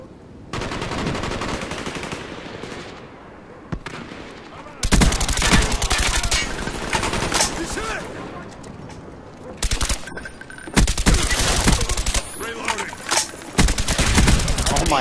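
Gunfire rattles through a first-person shooter match on the Havana map, with long loud bursts of rapid automatic fire broken by short pauses and scattered single shots, and voices talking faintly underneath.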